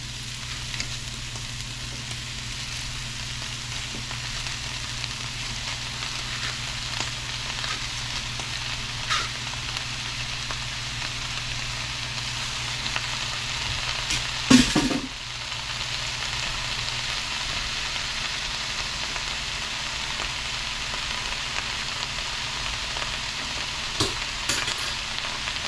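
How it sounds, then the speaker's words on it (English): Bok choy fries in a hot pan with a steady, soft sizzle and crackle that continues throughout, broken once by a brief clatter of stirring or handling. "Let's get our Bok Choy in there."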